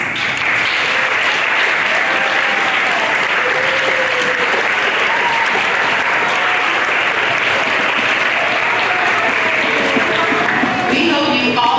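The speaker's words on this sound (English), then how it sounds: "So can I have all the 5th graders stand up for a round of applause?" Sustained audience applause fills a school spring concert hall as fifth graders from the band, orchestra and chorus stand to be recognized, a loud steady wash of clapping with faint voices mixed in.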